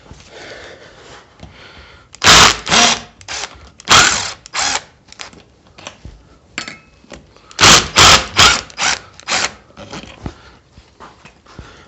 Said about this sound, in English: We're going to take out those bolts.